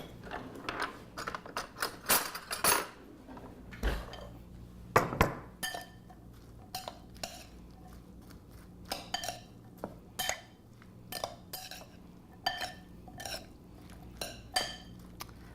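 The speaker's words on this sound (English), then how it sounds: "Let's give it a stir." A spoon stirs nectarine jalapeño relish in a bowl, giving repeated close clinks and scrapes against the bowl in an irregular rhythm with short pauses between strokes.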